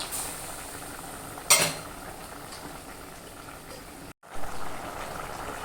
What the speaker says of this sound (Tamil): Five minutes கொதிச்சிடுச்சு. சாம்பார் ரெடி ஆகிடுச்சு.